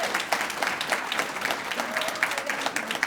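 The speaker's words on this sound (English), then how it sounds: "We need to give a round of applause for Emmy" An audience claps steadily in appreciation for an organizer, a dense, moderately loud round of applause with no talk over it.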